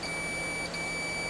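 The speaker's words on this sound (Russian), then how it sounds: "Пищит, в обратную сторону пищит." A multimeter on continuity test gives a steady electronic beep while checking the diode bridge of a Sibkontakt IS-24-3000 inverter. The single tone runs unbroken for the whole moment at an even level, with only a brief dip partway through.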